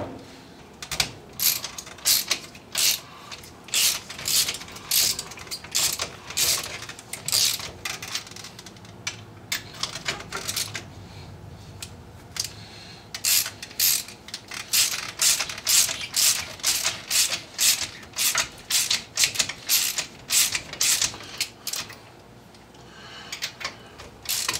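A ratchet wrench works strut bolts down on a vehicle's coilover during a spring installation, giving long runs of sharp, rapid clicking close up, loud and steady with brief pauses between bursts and no talk.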